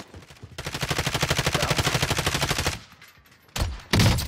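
Automatic gunfire in the video game Call of Duty Warzone, a long rapid burst of evenly spaced shots followed by a pause and then two more loud blasts.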